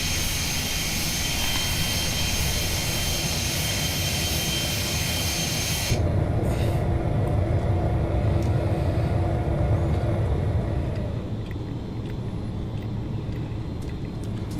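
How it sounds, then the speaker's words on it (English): ATR 72-500 turboprop engines at takeoff power in the Prepar3D flight simulator, a steady loud drone that continues throughout, with a sharp shift in tone partway as the climb begins. "V1, V2, rotate. Gear up."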